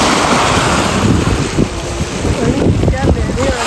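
Strong waves crash against the shore at a lakeside waterfront, a loud, churning wash with wind buffeting the microphone and faint voices mixed in.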